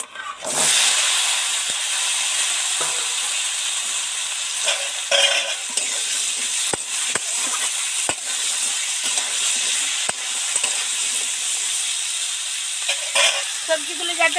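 Vegetables for a bitter gourd and potato dish sizzle loudly in a hot pan while a utensil scrapes and stirs them in irregular strokes, with a steady hiss throughout.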